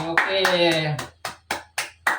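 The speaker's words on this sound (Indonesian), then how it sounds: "Kita tepuk tangan untuk memberikan apresiasi untuk kita semua dulu untuk hari ini." A classroom of students clapping in appreciation at the end of a micro-teaching lesson: after a few seconds of talk, several separate bursts of hand claps follow, close and moderately loud, with a pause between each.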